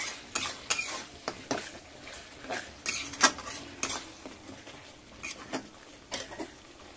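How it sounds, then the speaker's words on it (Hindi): Ground spinach paste is stirred into frying masala for palak paneer, with a spoon scraping and clinking against the pan in repeated close strokes over a soft background sizzle. "अब इसे मैं पालक डालूंगी।"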